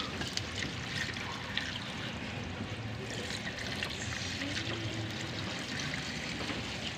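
Water poured over tea leaves to wash them: a steady, close, continuous splashing and trickling stream that stays even throughout, with no talking.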